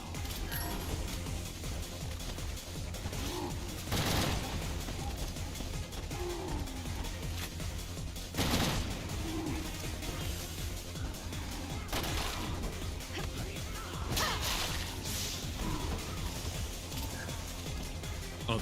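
Gunfire in Resident Evil 6, several sharp separate shots spaced apart over a steady background of game music and ambience, with no talk.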